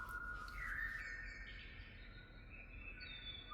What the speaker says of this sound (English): On the sound system, we heard the birds coming from one side to the other